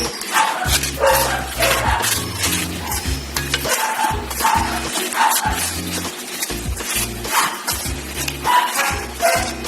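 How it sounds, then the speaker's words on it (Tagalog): Banana cake batter with eggs being mixed continuously, giving a loud rhythmic churning with repeated low pulses, much like an electric mixer working steadily through the batter. "Then continuously mix until it is light and fluffy."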